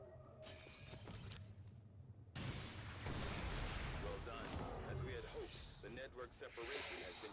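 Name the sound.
Red Storm Cannon firing in XCOM 2 video game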